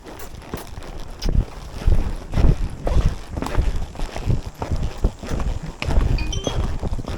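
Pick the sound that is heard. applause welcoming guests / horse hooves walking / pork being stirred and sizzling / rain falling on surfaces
horse hooves walking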